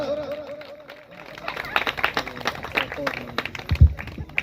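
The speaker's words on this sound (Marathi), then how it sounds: "जोरात टाळ्या वाजवा" Scattered, uneven clapping from an audience at a Sunrise Academy function in Avsari, loud sharp hits rising and falling under someone speaking over the crowd.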